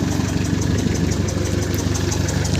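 An Isuzu 4BA1 diesel engine running steadily after starting, a continuous low rumbling idle with even throbbing, close up and loud, with no voices.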